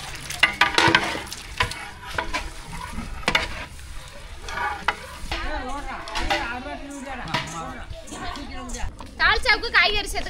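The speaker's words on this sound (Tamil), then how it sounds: "கறி சேர்த்து நல்லா வெந்துக்கிட்டு இருக்கு பிரியாணிக்கு. இப்போ கிண்டி விட்டுலாம்." Meat for biryani sizzles in a pot and is stirred with scraping, clinking strokes, while people chat steadily over the cooking.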